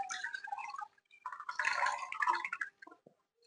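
Milk poured from a plastic packet into a container in a home kitchen, a splashing liquid stream in two bursts broken by short pauses, ending with a few drips.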